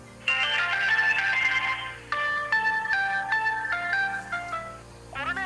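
A melodic mobile phone ringtone for an incoming call plays close and clear for several seconds, its notes stepping up and down, interrupting a late-night interview.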